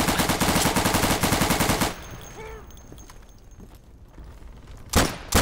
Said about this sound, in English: good freaking thing I have a submachine gun